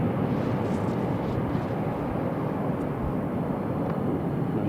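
An aircraft lands at Newcastle International Airport, giving a steady, loud, broad roar of jet engine noise that holds constant throughout without a break.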